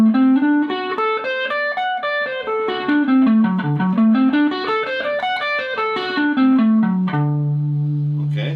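Distorted electric guitar runs a chromatic scale pattern up and down the strings, steady note by note, then holds a sustained low chord at the end; close and loud, no talking.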